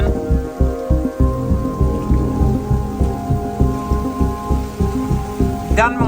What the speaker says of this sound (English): Safe to say the storm has moved in.